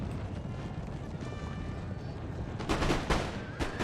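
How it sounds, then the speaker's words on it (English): Artillery in Napoleon: Total War fires canister shot, with a rumbling background of battle and a cluster of sharp booming blasts near the end, moderately loud, under faint ambient noise. "those canister shots were kind of terrible"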